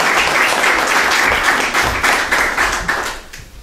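Sustained audience applause after thanks at a public talk on regenerating industrial wasteland in Langreo, dense and steady clapping that tapers off near the end, with no voices over it.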